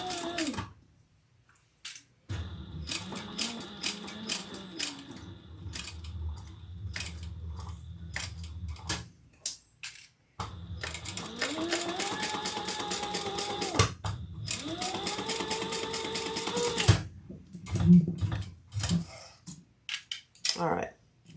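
A sewing machine stitches leather in bursts of rapid needle clatter with whirring motor tones, separated by short pauses and small clicks of handling, close up and fairly quiet.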